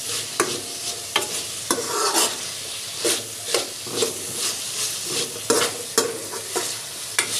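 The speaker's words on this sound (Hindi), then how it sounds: "इसको अच्छे से मिक्स करेंगे अपन।" Peanuts frying in a pan over low heat are stirred and mixed, with rhythmic scraping strokes repeating about every half second over a steady sizzle, close and fairly loud, with no talking.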